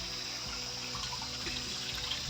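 Cold water runs steadily from a stone village spring (naula) beneath oak trees, a close, continuous trickle and splash with no voices.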